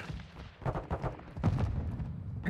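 Rapid gunfire from the Call of Duty Modern Warfare 2 video game, a cluster of sharp shots and thumps in quick bursts, loud and close with no talking over it.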